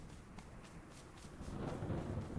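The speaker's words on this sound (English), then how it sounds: "Oh, the storm is approaching." Thunder from an approaching storm in the video game Smalland rumbles low and faint, a soft rolling roar that swells slightly toward the end with light rain-like hiss.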